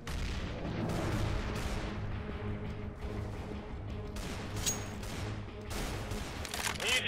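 Game grenade blast in CS:GO on Xbox One, a dense burst of booming, crackling gunfire-like explosions amid continuous loud battle noise, with faint voices underneath.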